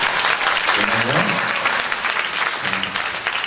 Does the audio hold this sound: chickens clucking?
no